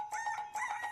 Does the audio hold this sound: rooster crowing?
yes